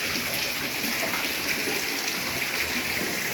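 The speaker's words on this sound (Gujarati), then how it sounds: "વરસાદ તો ફૂલ જ પડે." Heavy monsoon rain pouring steadily outside a rural home, a dense, even hiss of falling water with no pauses.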